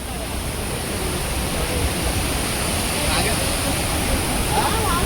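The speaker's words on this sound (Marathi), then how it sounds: "धबधबा बघून शॉक व्हाल, एवढा मोठा धबधबा आहे सवतकडा" Large Savatkada waterfall in the Konkan rushing as a steady, broad roar of falling water, loud and continuous throughout, with no clear speech over it.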